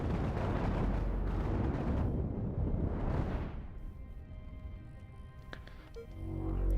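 Chain guns firing in the spaceship game Cosmoteer, a loud dense roar of rapid bursts that thins after a few seconds into scattered pops and impacts, then swells again at the end.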